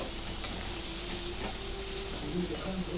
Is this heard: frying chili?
yes